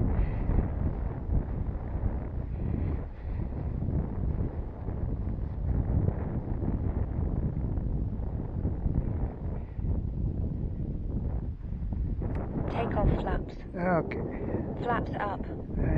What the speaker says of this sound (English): A little bit windy out here.